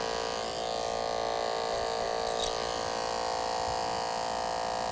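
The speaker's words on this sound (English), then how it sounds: "You can hear the sound the clipper makes. It's making a pretty loud sound when we cut." Electric hair clipper cutting through thick hair, a loud steady high-pitched buzz held close for the whole stretch with no pauses.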